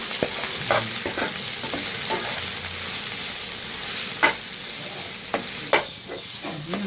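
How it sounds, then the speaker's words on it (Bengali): Jute leaves fry in a pan with dried red chili and garlic, a steady loud sizzle broken by occasional sharp scrapes of a stirring spatula. "শাকটা সুন্দর করে একবারে ভাজা ভাজা করে নিচ্ছি"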